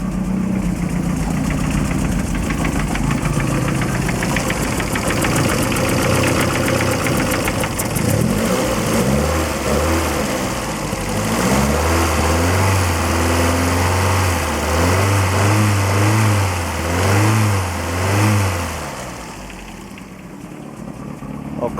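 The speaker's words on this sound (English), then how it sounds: "it's time to fire up and see where the exhaust is leaking from" A Lotus Excel engine idling with a leaking, blowing exhaust gives a continuous close rumble, with a rough, throbbing low note that rises and falls in uneven pulses through the middle stretch.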